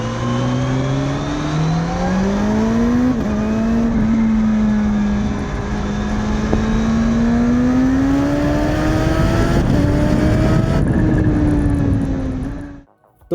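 A Kawasaki H2 motorcycle engine with a gear-driven centrifugal supercharger revs loudly, its pitch climbing steadily in long sweeps before cutting off abruptly at the end; no voices.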